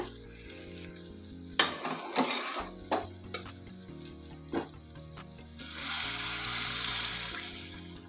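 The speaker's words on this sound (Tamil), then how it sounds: "இப்போ வெந்திருக்கிற இந்த பாலக்கெல்லாம் இதில் ஊற்றிடலாங்க" Cooked spinach for dal palak poured into fried onions, a few knocks and a stirring scrape, then a rising hissy sizzle as the liquid hits the hot pan, close and with no voices.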